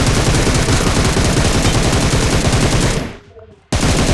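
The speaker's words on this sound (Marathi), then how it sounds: "नका मारू गोळ्या." Rapid sustained automatic gunfire in the mobile game BGMI, a loud dense stream of shots for about three seconds that fades out briefly before the firing abruptly resumes.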